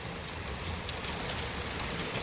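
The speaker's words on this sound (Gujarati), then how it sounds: "કાલ કરતાં આજે વધારે વરસાદ છે।" Steady rain falls in a village on its second day of monsoon, a dense, even patter on surfaces, moderately faint and continuous with no voices.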